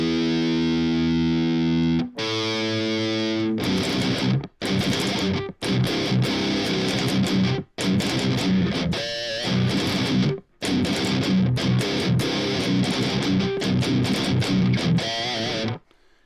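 A seven-string electric guitar played through distortion pedals, loud and saturated, with heavy chords and riffs broken by brief silent gaps. No one speaks.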